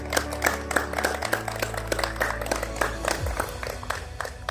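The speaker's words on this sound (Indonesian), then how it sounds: "Tepuk tangan buat kita, aplaus yang luar biasa." Scattered clapping from an audience at a Papua regional police forensic laboratory event, steady across the whole stretch over a low hum and tonal background sounds.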